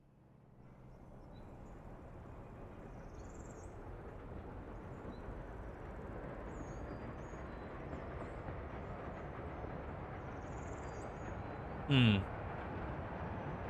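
Trains run in the city-building game Workers & Resources, a steady rumbling rail roll that swells in over the first seconds and holds, with a brief murmured voice near the end.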